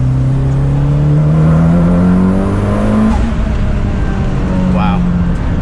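A fast car on the street accelerates hard, its engine note climbing steadily in pitch through the gears with a shift near the middle. Road and wind noise roar loudly around the cabin, with a brief voice near the end.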